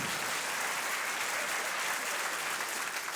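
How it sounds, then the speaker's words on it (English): A theatre crowd at a stand-up comedy show breaks into sustained applause, a dense, steady roar of clapping hands with no gaps, heard from a distance and fairly quiet. "Don't clap that."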